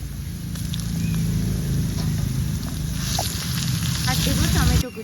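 Chopped onion and garlic paste hit hot oil with frying spices, and a loud continuous sizzle with spattering crackles carries on throughout, no talk over it.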